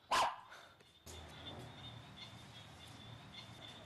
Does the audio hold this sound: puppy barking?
yes